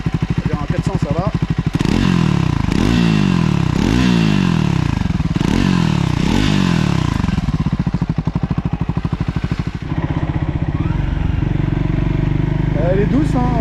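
Triumph Scrambler 400X single-cylinder four-stroke motorcycle from 2025, loud and close as it pulls through repeated rising revs, each surge climbing then dropping between gear changes, before settling into a steadier throb; a voice talks over it.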